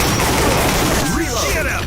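Gunshots in a retro shooter video game, a loud continuous clatter of rapid shots in the foreground, with voices calling out over it.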